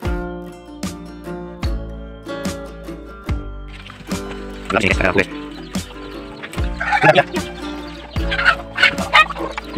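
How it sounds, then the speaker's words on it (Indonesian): Village chickens squabbling outdoors, apparently roosters competing over a hen, with repeated squawks and flurries of clucking that grow busier toward the end while a person talks nearby. "di luar ayamnya lagi bertengkar tuh guys"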